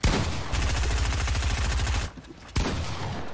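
Rapid automatic gunfire in Fortnite rattles loud and close for about two seconds, breaks off briefly, then resumes with a sharp shot and more firing.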